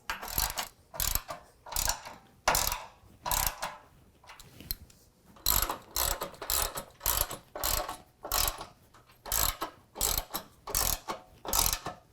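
A ratchet with a 9/16 socket tightens the mounting hardware for Go Rhino Dominator D1 side steps on a 2016 Ford F-150 Crew Cab, giving loud, close bursts of rapid clicking in a steady back-and-forth rhythm with short pauses.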